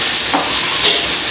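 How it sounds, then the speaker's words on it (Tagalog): Tilapia fish fries in a pan, giving a loud, steady close-up sizzle and crackle that fills the short moment without talk. "Magpiprito ako ng tilapia"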